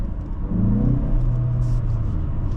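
A 2024 Mazda CX-30 Turbo pulls hard under throttle on a test drive, its close, deep engine rumble rising in pitch as the car accelerates.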